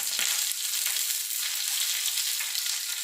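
Curry leaves frying in hot oil for a Kerala ripe plantain pulissery, a dense, bright, continuous crackling sizzle, loud and close, with no voices.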